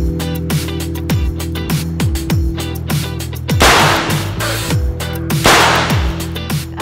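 Gunshots at a shooting range ring out as a rapid series of sharp, close cracks, with two heavier, louder blasts standing out among the repeated reports.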